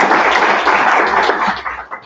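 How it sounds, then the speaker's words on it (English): A short burst of audience applause for a speaker at a bicentennial history talk, dense close clapping that quickly thins and fades into a few last claps. "let's give Dr. Brooks a round of applause."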